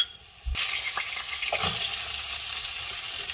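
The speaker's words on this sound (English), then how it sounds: "While the butter's melting up, getting ready for the shallots" Butter melting in a hot pan for a king salmon dish gives a steady close sizzle and crackle that starts abruptly after a brief quiet moment and continues evenly with no talk.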